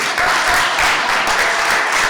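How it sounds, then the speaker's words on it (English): Audience applause following a congressman's call for a round of applause, a steady dense wash of clapping from a crowd, loud and continuous throughout. "Give that a round of applause."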